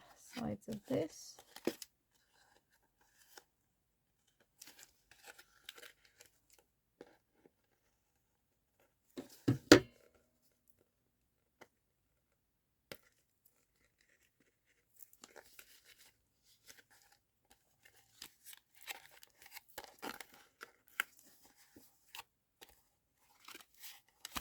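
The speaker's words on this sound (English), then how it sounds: "let's just cut off the sides of this." Scissors cut the sides off a piece of paper in scattered, close snips and crinkles, with quiet stretches between bursts and soft talking in places.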